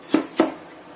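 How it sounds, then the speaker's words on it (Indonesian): Ginger being minced with a knife on a board: two crisp, close chopping strikes in quick succession, then quiet. "Setengah saya cincang seperti itu jahenya"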